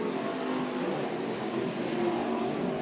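Race cars roar around the Deuce of Clubs Thunder Raceway dirt oval in Show Low, Arizona, a dense, steady engine drone from several cars running side by side down the back straight.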